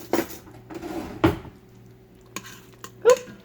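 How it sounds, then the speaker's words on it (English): A spoon scrapes and clinks against a Fissler Souspreme multi pot while stirring hamburger meat for taco filling, a few sharp knocks standing out over a quiet, faint background. "I'm going to get my spoon and stir it around"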